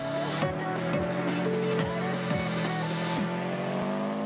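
A car slides on the clean ice of a frozen lake (Vosa lake). Its engine gives a steady drone whose pitch rises and falls, with light scraping underneath, heard fairly close for a few seconds.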